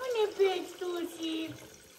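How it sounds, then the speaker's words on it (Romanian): Water is poured into a bucket at a rural family home, making a steady splashing flow heard under a nearby voice talking throughout. "Băgăm apă în găleata asta"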